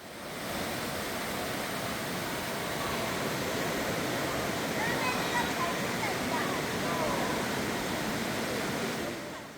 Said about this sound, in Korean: 내부에 거대한 폭포가 인상적입니다